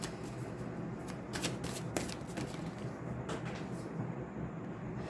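Tarot cards being shuffled by hand, a soft papery riffling and flicking close by over a faint steady background, with a few sharper snaps in the middle and no voices.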